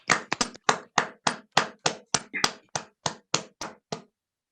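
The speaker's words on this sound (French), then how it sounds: "Merci, on applaudit." Applause at a Toastmasters international speech contest in Marseille comes as a slow, even series of about fourteen sharp, distinct claps with short silences between them, then it stops.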